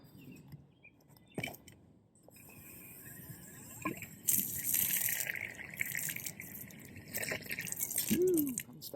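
Water gushes from a hand pump at a campsite, starting after a few clanks of the handle and then splashing steadily and close into a container for several seconds.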